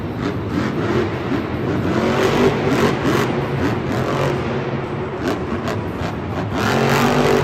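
A Monster Jam monster truck engine roars and revs loudly in a Miami arena during two-wheel moves, the throttle surging and easing beneath a constant crowd-filled din.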